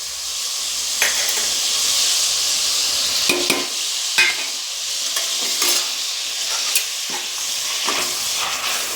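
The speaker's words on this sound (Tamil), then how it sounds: "அதுவும் எண்ணெயில் வதங்கட்டும்." Spices with turmeric sauté in oil for chicken curry: steady oil sizzle with occasional stirring scrapes and clicks, continuous and close, with no voices.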